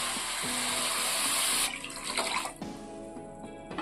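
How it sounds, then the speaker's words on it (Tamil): About two cups of water pour into a heavy-bottomed kadai of sugar on the stove for syrup, a steady rushing splash that slows and trails off into drips. "2 கப்பு தண்ணி சேர்த்துக்குவோம்."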